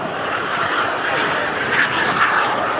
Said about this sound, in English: in a few seconds they will impressively thrust for a stunning minimum radius turn